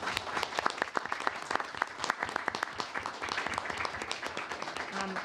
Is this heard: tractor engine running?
no